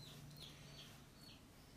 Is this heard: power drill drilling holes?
no